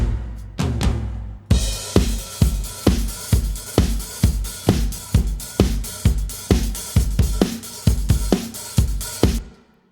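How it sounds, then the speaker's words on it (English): A steady drum groove with Capitol Chambers reverb on the overhead track: punchy kick and snare hits with cymbals on top and a roomy tail, playing a regular beat alone for about ten seconds. "And now the drums sound like this with capital chambers on the overhead track."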